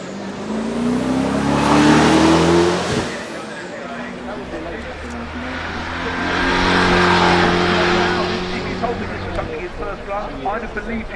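The engine of a one-off 1979 Aston Martin Bulldog revs loudly in two rising and falling swells. People talk over the engine noise.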